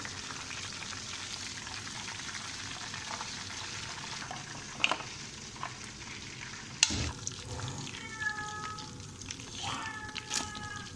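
Okra (bhindi) frying in hot oil, a steady crackling sizzle that runs throughout, broken by a few sharp utensil knocks and scrapes, with faint voices or other kitchen sounds rising near the end.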